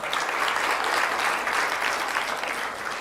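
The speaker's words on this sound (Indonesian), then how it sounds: "Tepuk tangan" A university audience at IPB claps for a speech on agriculture and food security, the applause sustained, dense and fairly close, tapering slightly at the end with no talk.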